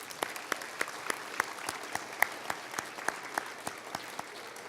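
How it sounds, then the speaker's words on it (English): An audience at a Nova Scotia climate change progress event gives a round of applause, a quiet, steady run of closely spaced individual claps rather than a dense roar, with no talking over it. "I think they deserve one more round of applause"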